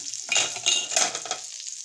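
A pan lid lifts off suji (semolina) set dosa sizzling and frying, with a few soft scraping, stirring touches and a short metallic clink near the start, the sizzle steady and close throughout.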